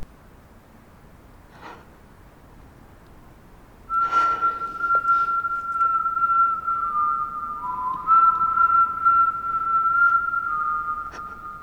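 Someone whistles a slow, wavering tune on a dark, empty street at night that starts a few seconds in and carries on steadily, thin and high, over a quiet background with a few soft rustles.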